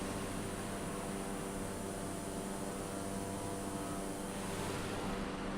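A Cessna 208B turboprop in MSFS 2020 drones on in a steady, even engine hum with broadband airy noise, unchanging and continuous throughout with no voices.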